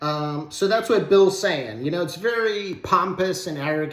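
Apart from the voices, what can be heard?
None of the usual background noises is heard.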